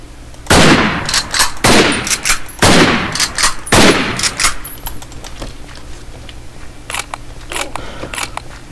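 Gunfire in a Minecraft Fallout roleplay game, several sharp loud shots in the first few seconds followed by fainter scattered clicks and pops, no talking.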